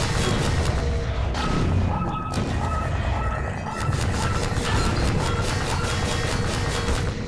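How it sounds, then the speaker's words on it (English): Loud, continuous barrage of booming blasts and gunfire as a Strider attacks in Half-Life 2, dense and sustained with brief dips, no clear speech. "because there's a frickin' Strider!"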